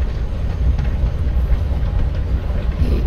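Steady low rumble of a moving train in the video game Life is Strange: Before the Storm, a continuous loud rolling drone with faint rhythmic rattles and no talking.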